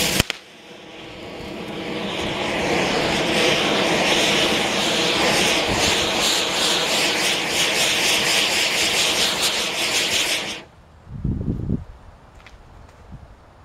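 Nozzleless charcoal spark drivers spin a horizontal girandola firework, giving a loud, continuous roaring hiss for about ten seconds that stops abruptly. A few faint crackles and thumps follow.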